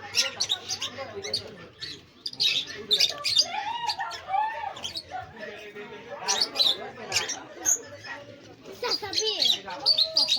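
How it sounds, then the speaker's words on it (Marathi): Shrill, raspy parrot calls and chattering squawks burst repeatedly throughout, dense and fairly close, with background voices and crowd noise at a guava orchard in Nashik. "मोकार पोपट आहे इथं"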